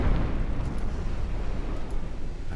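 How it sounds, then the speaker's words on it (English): A torpedo hit explodes in a naval battle video game: a dense, loud, low rumbling blast that sustains steadily for a couple of seconds with no voices over it. "Yes, we got a torpedo hit."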